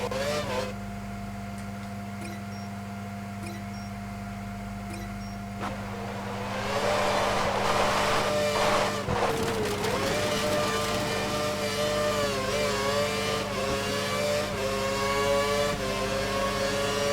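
Race-car engines in a GP3 racing video game at Germany whine steadily, then rise in pitch and loudness as the cars accelerate together toward the finish, with the droning engine sound sustained to the end.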